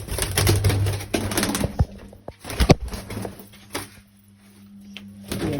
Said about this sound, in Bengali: কালকে 3টে নতুন পায়রা নিয়ে এসেছি